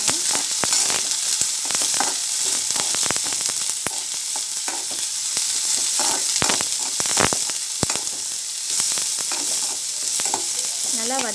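Sliced onions sizzle and fry in hot oil with mustard seeds, a steady bright crackle close up, with occasional stirring scrapes and pops throughout.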